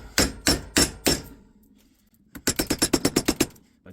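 A sharp edge serving as a chisel is struck with a hammer: four evenly spaced loud metallic blows, a short pause with faint handling, then a faster run of about eight sharp strikes, close and with no talk.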